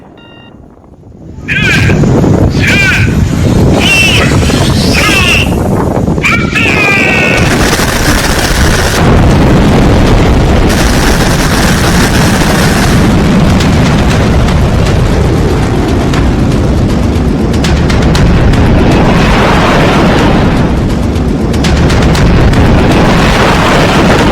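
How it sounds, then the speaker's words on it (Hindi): Missile test launches, a loud continuous roaring blast with booming bursts and rumble that starts abruptly and holds for the whole span, with a few brief high whistling tones early on. "किम जोंग ने एक के बाद एक कई मिसाइलों का टेस्ट कर लिया है।"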